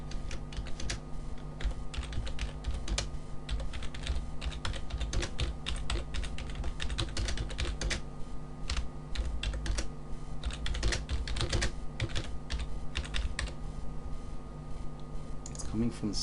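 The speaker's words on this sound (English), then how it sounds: "So we type a message to remind them, to remind the members of it." Message typed on a computer keyboard: steady, rapid key clicks and taps running continuously, close and clear, under a faint background hum, with a person talking at times.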